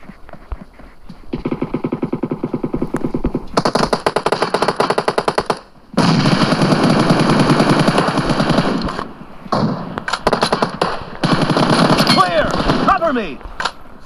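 Rapid automatic gunfire from a multiplayer team deathmatch shooter game, dense bursts of shots running almost continuously with brief pauses, loud and close, with voiced game callouts mixed in.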